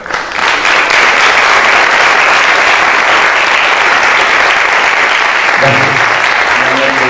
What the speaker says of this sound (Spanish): quisiera, por favor, darles un aplauso